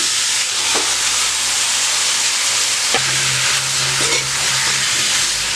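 Washed chicken pieces dropped into a hot pan for a chicken gravy hiss and sizzle steadily and fairly loud, with a couple of soft clunks as they go in, running unbroken throughout with no talking.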